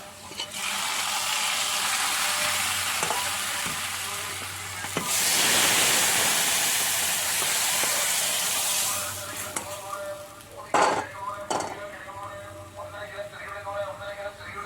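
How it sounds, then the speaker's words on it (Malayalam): Hot fried onion and curry leaf tempering hits an ash gourd dal curry with a loud, broad sizzling hiss that swells for several seconds, then fades into softer bubbling and a few clanks of utensils. "നമുക്ക് ഉള്ളി മൂത്തു നമുക്ക് കറിയിലേക്ക് ഒഴിച്ചു കൊടുക്കാം"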